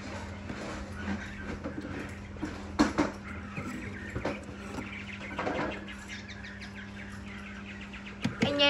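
A female Chinese hwamei songbird, an adult bird about a year and a half old, gives scattered short calls and chirps at close range over a steady low background hum, with a few sharper bursts near the end.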